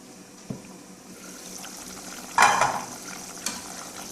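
Chicken roast cooking in a pan, a soft low sizzle with a few stirring clinks and one brief louder scrape of the spoon partway through.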